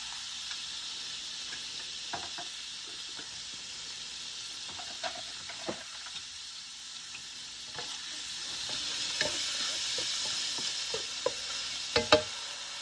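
Garlic sautés in a pan with a continuous soft hiss and occasional light clicks of a utensil stirring, growing a bit louder toward the end.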